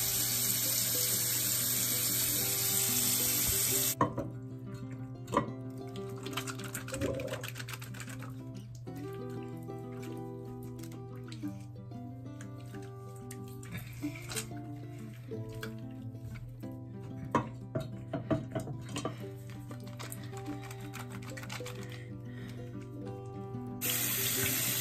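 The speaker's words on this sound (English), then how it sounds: "I put my feet in the sink. Oh, the water's cold!" Cold water runs from a tap into a sink during an after-school routine, a steady rushing hiss that stops after a few seconds while music plays, then starts again at the end.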